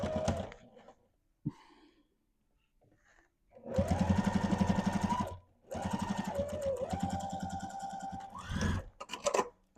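A sewing machine stitches binding onto a witch hat brim in two runs of rapid, steady needle chatter, a couple of seconds each, with short pauses and soft handling noises between them.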